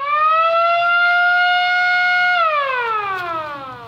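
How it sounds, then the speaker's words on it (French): A loud siren at an exam centre in Abomey, Benin, marking the start of the CEP 2025 tests, holding one steady wailing tone before sliding down in pitch as it winds off. "À 8h30, la sirène retentit."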